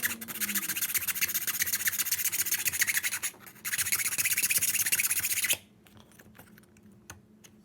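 Tang pins of a homemade balisong being sanded down, heard as a fast rhythmic scratchy rubbing, close and continuous for about five seconds with a brief pause, then stopping and giving way to a few faint taps.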